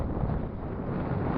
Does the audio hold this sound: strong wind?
yes